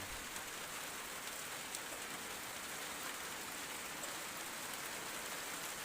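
Morning rain falls steadily on a garden, producing a faint, even hiss of drops on leaves and ground that continues without a break, with no voices.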